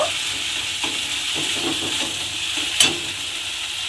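Vegetables sautéing in a pan with poppy seed paste while making a spiced aubergine dish, a steady soft sizzle with occasional spoon scrapes and one sharper clink near the end, no voices.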